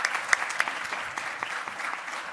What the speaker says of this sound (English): If we can get a round of applause for all of our speakers.